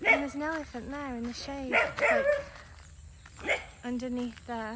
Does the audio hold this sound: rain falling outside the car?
no